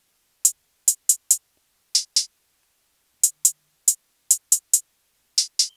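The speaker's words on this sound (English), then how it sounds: "you want to have like a really like the most simple hi-hat pattern ever" A very simple hi-hat pattern programmed in FL Studio: crisp, bright closed-hat ticks in short bursts of two or three hits with gaps between them, played alone with no talking.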